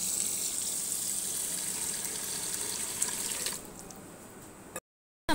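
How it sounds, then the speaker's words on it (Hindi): A liter of water runs into a bowl of sugar for mango squash, a steady close gushing flow like a tap that drops in force near the end and then cuts off, with no voices over it. "और 1 लीटर ही पानी इसमें जाएगा।"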